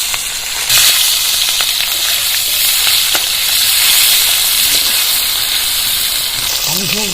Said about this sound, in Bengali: ভালো করে তেলটা গরম করে নিতে হবে মাছগুলো ছেড়ে দেবো